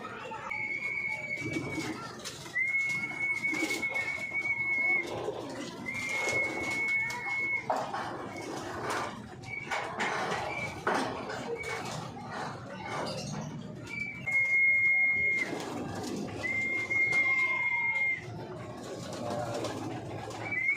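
Racing pigeons coo steadily in their loft during feeding, with layered bird calls throughout, clear repeated whistle tones, and some handling noise nearby.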